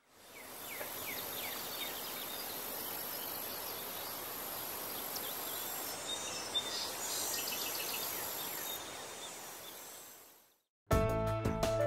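Outdoors on Gabriola Island, birds sing over a steady bed of insect chirring, an even natural chorus that drops to silence near the end before an abrupt burst of different sound.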